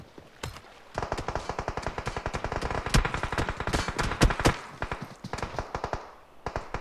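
Rapid automatic gunfire from the video game PUBG during a university tournament livestream, dense bursts of shots firing in quick succession for several seconds, loud and close, with no talk over it.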